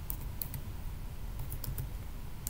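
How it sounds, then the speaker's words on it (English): Typing on a computer keyboard while entering text into a PDF in Adobe Acrobat DC, a few quick key clicks in short bursts close by over a steady low background hum. "I can type something like go to page"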